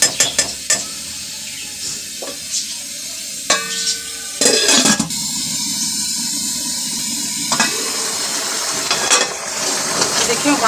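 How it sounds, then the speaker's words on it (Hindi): Bubbling, hissing water at a steady simmer in a cooking pot for aloo pulao, with a few clinks and bumps of the pot and lid, close by. "देखिए उबाल आ गया।"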